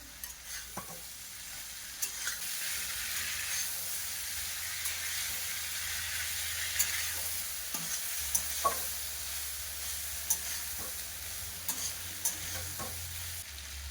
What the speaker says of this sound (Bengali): সবজি দেব, সবজি মশলাকে কিছুক্ষণ কষে নেব।